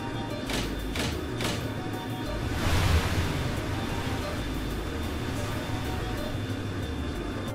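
Waves and surf wash steadily around a boat touching down on open water in the game Trails in the Sky, a continuous ocean roar with a brief louder swell near the middle.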